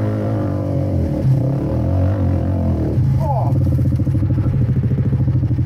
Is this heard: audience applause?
no